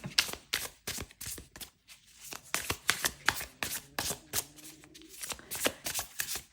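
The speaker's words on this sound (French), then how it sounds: "on tire 2 cartes du tarot interdit" Tarot cards are shuffled and handled up close, with rapid riffling flutters and soft slaps in quick irregular bursts.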